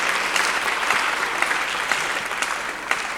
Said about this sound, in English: Let's have a round of applause for Greg real quick.